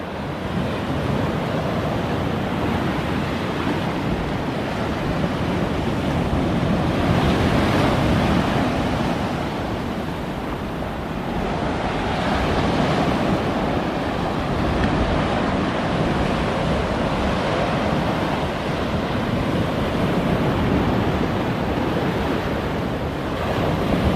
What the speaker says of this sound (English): There's some big waves out there a ways.